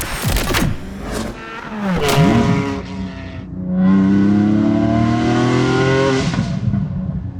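A Porsche 718 Spyder's exhaust roars and revs up close, the engine note climbing and dropping through gear changes with a deep, raspy tone.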